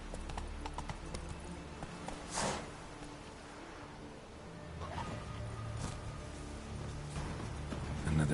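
Hooves of the horse Roach gallop in The Witcher 3 video game, a faint, continuous clip-clop rhythm with a couple of brief louder swells along the way.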